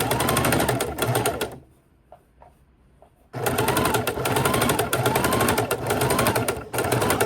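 A sewing machine stitches a fabric baking dish cover in loud, fast bursts of rapid needle clatter, pausing to near silence for a couple of seconds in the middle before running steadily again to the end.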